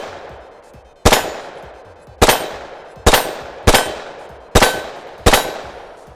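A Desert Eagle fires Spitzer-tipped lever-action rounds: six loud, sharp shots, each with a ringing decay, spaced about one second apart, with no talk between them.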